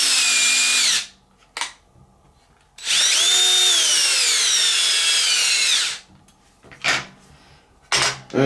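A power drill drives retaining screws into the upper side of an Xmaxx RC car during a repair, giving two long whirring bursts with short spurts between them, close and loud, with no talk.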